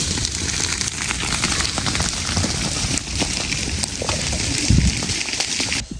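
Water dousing a farm grass fire, a dense steady hiss and crackle with sizzling spatter throughout and a brief heavier splash near the end, with no voices.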